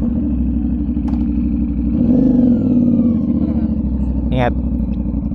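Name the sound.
motorcycle being test ridden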